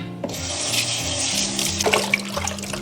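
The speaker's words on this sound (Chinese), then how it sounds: "我们先把鱿鱼清洗干净，就肚子里面的内脏要清洗一下" Fresh squid rinsed under a running kitchen tap, a steady broad rush of water into the sink with brief splashy changes near the end as the squid is handled, fairly close and without talk.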